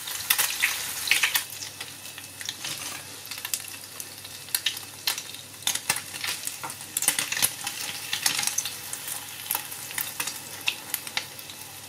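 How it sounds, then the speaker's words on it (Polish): Toast for tosty królewskie fries in hot fat in a pan, giving a steady close sizzle with bursts of crackling and spitting throughout, with no talking. "Teraz będziemy delikatnie sobie smażyć z jednej i z drugiej strony."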